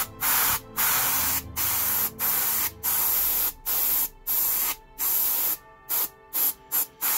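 Short bursts of black spray paint from a can or airbrush coat a Forgeworld Custodes Caladius Grav Tank model. About a dozen close, loud hissing sprays come one after another, the last few quicker and shorter, with no talking.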